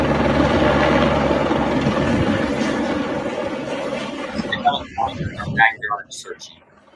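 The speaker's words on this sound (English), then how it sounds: "So that's the Texas Department of Public Safety helicopter?" A Texas Department of Public Safety helicopter drones overhead with a steady, loud rotor rumble that fades toward the end, while voices talk over it and a few brief sharp sounds cut in near the close.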